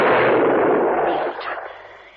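Loud single gunshot effect in a radio drama, a rifle or pistol blast with a sharp attack and a long decaying echo tail over about two seconds, heard alone without voices.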